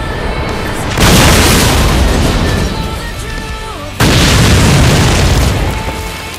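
Loud, booming explosions from a tank battle in a mountain-set war video game, two heavy blasts at about one and four seconds, each followed by a long rumbling decay.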